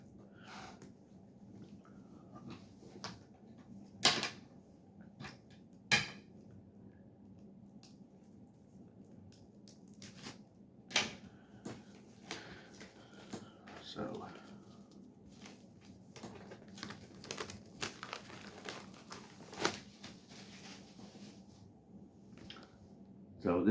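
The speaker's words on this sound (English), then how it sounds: "So you get to watch me struggle trying to peel the shrink off." Plastic shrink wrap being peeled and torn off a boxed collectible by hand, with scattered crinkles, snaps and rips at irregular intervals, fairly quiet and close, alongside faint breathing.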